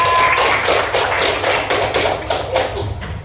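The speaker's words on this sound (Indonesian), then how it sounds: "Tepuk tangan untuk kelompok 3." Classroom applause for a student group, a dense burst of many hands clapping in a room, loud and steady, fading slightly toward the end.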